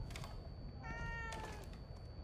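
A single cat meow in the horror video game The Evil Within 2, a short tonal call over a faint low background hum.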